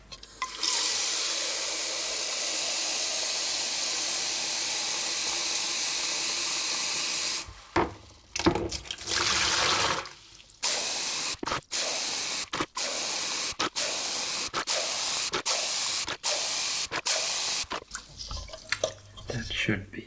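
Water gushes steadily into a bucket, about ten litres drawn for washing teak furniture. The loud flow runs unbroken, then stops, followed by short bursts and splashes with pauses between.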